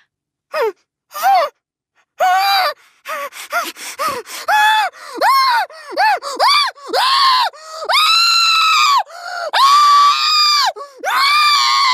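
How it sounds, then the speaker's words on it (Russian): A woman screams with all her force through a gag, giving a long run of muffled, strained vocal bursts that rise and fall. The bursts come close and loud, separated by short breaths. "я ору со всей дури с кляпом"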